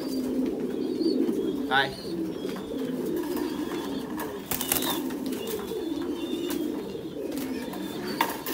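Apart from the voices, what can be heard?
pigeons cooing and flapping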